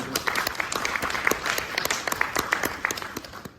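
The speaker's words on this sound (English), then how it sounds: "I think it deserves a round of applause, actually, Surrey." An audience at a talk on artificial intelligence gives a round of applause, with distinct individual claps mixed into a wash of crowd clapping that stays fairly close and steady.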